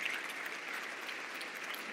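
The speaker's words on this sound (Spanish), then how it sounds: "Les pido un aplauso para los 5 jóvenes que han reinterpretado los poemas." Audience applause for five young performers who reinterpreted poems, at a poetry event: soft, steady clapping that sounds distant and fairly quiet, lasting under two seconds.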